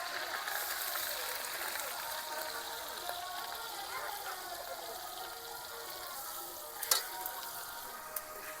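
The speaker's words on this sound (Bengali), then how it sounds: "এইবার দিয়ে দেবো কোচানো পেঁয়াজ।" Chopped onion hitting a pan of oil with ginger-garlic paste for a sea crab curry, a soft, fairly faint, even sizzle with an occasional clink of a utensil, no speech.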